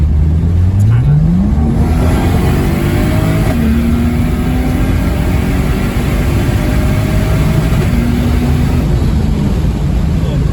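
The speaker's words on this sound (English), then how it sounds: "we're going to go ahead and do a pull, full throttle, just in drive because I don't want to deal with the paddle shifters" A turbocharged Lexus IS300 with an automatic gearbox, stock ECU and an eBay turbo kit accelerates at full throttle from inside the cabin, its engine note climbing through gear shifts loudly and continuously.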